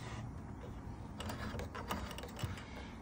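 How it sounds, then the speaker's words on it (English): Right-hand 1-to-5 speed dial of an Adria caravan's blown-air heater being turned, giving a quick run of faint, close mechanical clicks over a steady low hiss. "you turn the right hand dial where it's 1 to 5, you'll hear it click"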